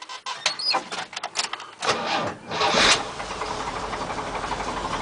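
A K30 truck engine cranks with rapid stuttering bursts, catches with a rising roar, then settles into a steady, rough-edged idle close by.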